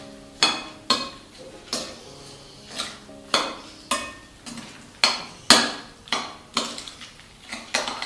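A utensil scrapes and clinks against a bowl while ricotta, chocolate and sugar are stirred into a cake mixture, giving a steady rhythm of sharp knocks about twice a second, close and clear, with no talking.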